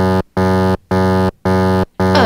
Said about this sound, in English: No, that's the charlatan alarm.